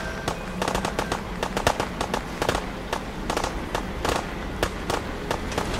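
Rapid bursts of gunfire in the Fallout 4 video game, sharp repeated cracks in irregular volleys that keep up steadily and stay fairly loud and close.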